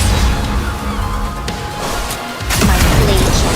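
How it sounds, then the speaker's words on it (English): A charged cannon shot in the mobile game Nikke, loud and dense: a sustained roaring blast through the first seconds, a brief dip, then a second heavy burst of impact rumble that carries to the end, with music underneath. "Aegis cannon, fire!"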